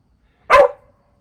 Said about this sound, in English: And by the way, there's my dog.